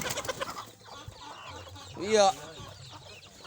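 A chicken in Ujung Kulon gives a loud, close cluck-squawk near the middle, with someone talking quietly around it.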